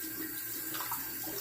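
Tap water runs steadily to wet a safety razor at a bathroom sink during a wet shave, a continuous close hiss and splash with no talk.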